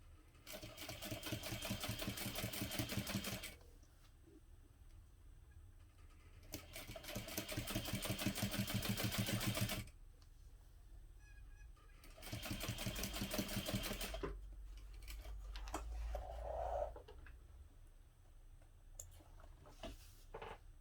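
A sewing machine runs slowly along a tote bag seam, with the pocket panel feeding through, in three long steady bursts of rapid stitching separated by quieter pauses with small handling noises.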